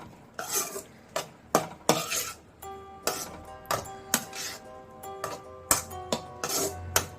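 A spoon stirs brinjal with spices in a pan, scraping and clinking against the metal in repeated, irregular strokes, close and fairly loud, with no voices.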